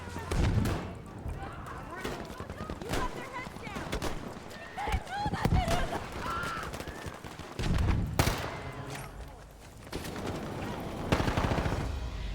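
Rapid gunfire crackles through a Battlefield 5 match, with bursts of automatic and single shots coming in clusters at close range, while a player talks in Turkish over the shooting.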